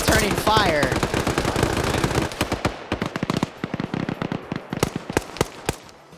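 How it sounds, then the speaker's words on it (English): A PKP machine gun fires in a military video game, first as a dense, loud, sustained burst under talk, then breaking into rapid, distinct shots that taper off. "Firing a PKP down. You got Barros over here returning fire."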